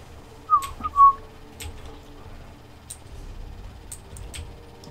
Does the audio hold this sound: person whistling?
yes